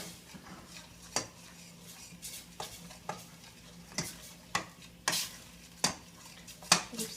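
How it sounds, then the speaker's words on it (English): Coconut milk being stirred into Thai green curry chicken in a pan, with a utensil scraping and knocking against the pot in a series of sharp, irregular strokes over a low simmer. "Keep stirring up so it mixes together well."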